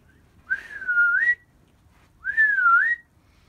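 A person whistles beside a Gemmy Halloween doorman prop, giving two clear, separate sliding whistles, each about a second long, with a short quiet gap between them and nothing else audible.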